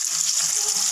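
Potato with salt and turmeric frying in a little oil with black cumin, a brief, close, steady sizzle.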